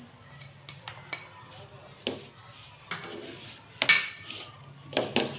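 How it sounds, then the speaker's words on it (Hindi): Spoon clinking and scraping against a bowl while mixing potato raita ingredients, a series of light, uneven taps and clinks at close range, fairly quiet, with soft background room noise. "इन सब चीज़ों को हम लोगों ने मिक्स कर लेना है अच्छे से"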